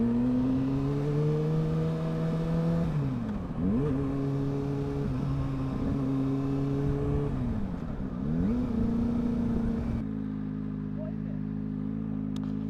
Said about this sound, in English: It's a Kawasaki Ninja 600. It's a bit loud.